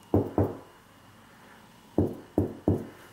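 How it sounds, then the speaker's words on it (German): Knuckles knock on a drywall wall in a room, two quick hollow knocks, a pause, then three more. The knocks are close and fairly loud, with no talking. "ich sollte vielleicht nicht zu laut klopfen,"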